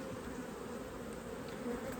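Honey bees buzz steadily at an open hive during a summer colony inspection, a continuous close hum at moderate level with no talking.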